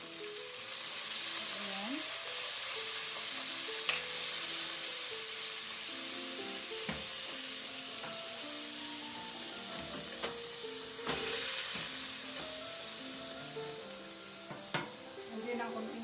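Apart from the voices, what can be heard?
vinegar added to frying tuna steak, sizzling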